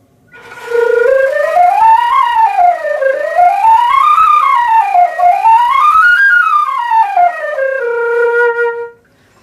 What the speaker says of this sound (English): So one of the first ones we can do is flutter tonguing.